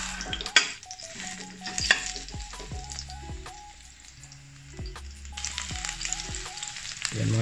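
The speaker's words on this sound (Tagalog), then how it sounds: "igigisa muna natin sa bawang at sibuyas" Garlic and onion sauté in a pan, a bright sizzle joined by repeated sharp clinks and scrapes of stirring, with sustained tonal notes from background music underneath throughout.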